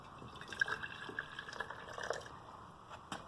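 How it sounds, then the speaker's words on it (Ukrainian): Hot water poured into a glass jar holding a spoonful of dry granules, a quiet, gurgling fill with a few small splashes and drips over about three seconds, no talking. "Гарячою водою заливаю."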